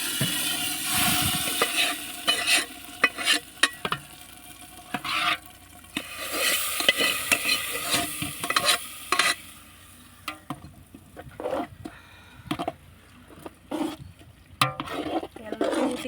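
Cashews and raisins fried for sweet pongal are poured into a large pot and stirred, giving a busy run of sizzling, scraping and clattering spoon strikes, loud and close, with irregular bursts and brief quieter gaps.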